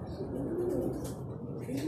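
Soft, low cooing of pigeons close by, repeated a few times, with faint rustling and a voice murmuring in the background.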